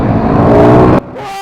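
KTM RC8 sport motorcycle engine revving hard at about half throttle, loud and close for one second before cutting off abruptly to a quieter idle.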